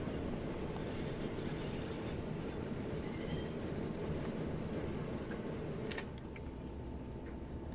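A train slowing under its locomotive brake in Train Sim World 2, with a continuous loud rumble of wheels on rail and a faint high squeal from the brakes drifting above it.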